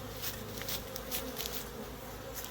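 Honey bees buzzing steadily around an open hive box during a honey harvest, a dense continuous swarm drone close by, with no talking.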